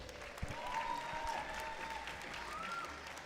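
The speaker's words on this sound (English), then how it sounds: "Give them one more round of applause, please." Audience applause at a martial arts competition, a steady wash of many hands clapping together, sustained at an even level for a few seconds.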